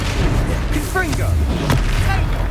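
Sharp booming blasts from the Confringo blasting spell in Hogwarts Legacy pop twice in quick succession amid battle noise, while voices speak over the fight.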